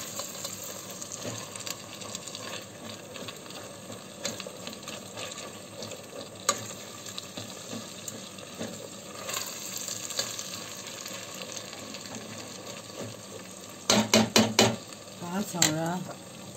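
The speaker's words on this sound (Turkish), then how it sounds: "Güzelce salçamı kavuracağım sebzelerimle." Tomato paste cooks with vegetables in a pan. A continuous low sizzle and frying hiss runs under faint utensil stirring, and a burst of louder clattering scrapes comes near the end.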